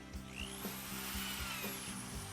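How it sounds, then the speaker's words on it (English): A small power drill bores planting holes for bulbs in garden soil, whirring in short repeated bursts up close with rhythmic thumps as the bit churns the earth. "He's going to do this with the little drill."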